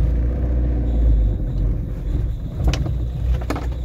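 An old Renault car rolling forward with a steady low engine rumble close by, a few brief sharper knocks and clatters near the end, and no talking.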